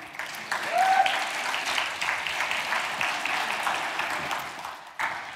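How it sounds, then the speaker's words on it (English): Conference audience applauding during a developer ecosystems tech talk, several seconds of steady, moderately loud room-wide clapping that tapers toward the end and ends with a short final swell. "Round of applause, folks,"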